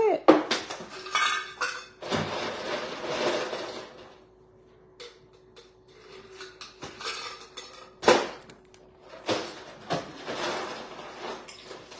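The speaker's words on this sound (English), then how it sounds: "I pause every time they go to scoop ice because it's just kind of loud." Ice being scooped from a small ice bin, loud clattering and scraping bursts separated by quieter gaps with a steady hum underneath, close by and heard alone.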